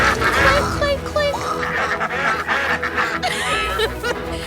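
A voice imitates a duck with a duck call, making repeated nasal quacks in short bursts close to the listener, mixed with chatter and laughter.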